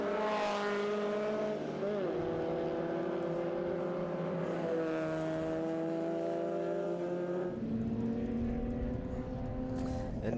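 MG and other British sports cars race past on a circuit, engines droning and rising in sustained overlapping tones, fairly distant and faint, with a commentator talking over them.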